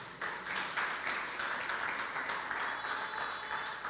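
A church congregation breaks into sustained applause during a sermon, a full, even clatter of many hands that stays steady for several seconds and is fairly faint overall.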